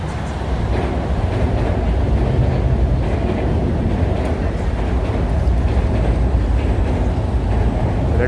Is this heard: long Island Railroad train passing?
yes